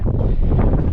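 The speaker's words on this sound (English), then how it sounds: "It is breezy." Wind on the chilly, sunny summit of Mount Baker in Washington's North Cascades blows as a steady, loud, low rumbling buffet against the microphone, with no voices.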